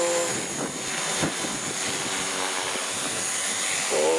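An aircraft touching down on landing, a steady loud broadband roar of engine and rushing air that holds throughout with a few brief thumps, no voices.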